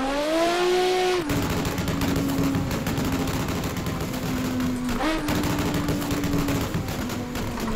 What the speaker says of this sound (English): let's just enjoy the sound of this car for a minute